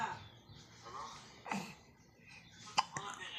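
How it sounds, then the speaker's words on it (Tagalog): A young girl hiccups indoors: a few short, sharp gulping catches spaced about a second apart, fairly close, with quiet adult talk around them. "Sinisinok ka na naman."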